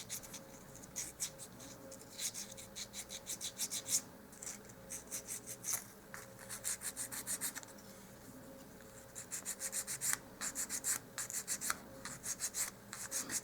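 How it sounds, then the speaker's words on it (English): Steady, rhythmic back-and-forth rasping of an emery board filing the edge of a dollhouse miniature, soft and close, with quick repeated strokes and no talking. "I'm just using an emery board and I'm just sanding that edge nice and smooth."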